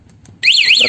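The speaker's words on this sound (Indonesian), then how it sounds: "dia ngeluarin bunyi sirine dan lampu sennya" A sharp HD remote alarm siren on a 2022 Honda Beat motorcycle starts abruptly after a brief quiet pause, a loud warbling tone rising and falling close by.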